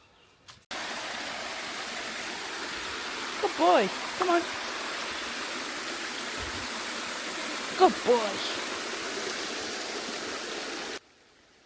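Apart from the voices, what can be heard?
small waterfalls at stepping stones in a country park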